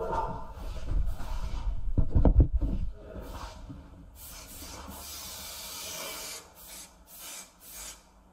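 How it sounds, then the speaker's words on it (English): A steady hissing spray of adhesive onto a floor section for Altro flooring, running for several seconds after some rough rubbing and scraping noises, close by, with brief pauses near the end. "I'm spraying a section on the floor"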